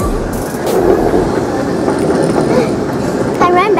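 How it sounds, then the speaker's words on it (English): A train runs at the Doha airport station with a steady rumble and rattle of carriages, close and continuous, and a brief metallic squeal near the end; voices are faintly present. "And there's another train."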